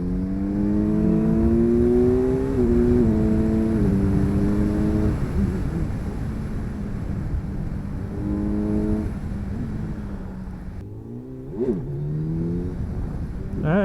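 A 2025 Kawasaki Z900 motorcycle, 124 horsepower, revs hard through rising gear pulls, its engine note climbing in repeated sweeps, easing off, then surging again close and loud under steady wind rush.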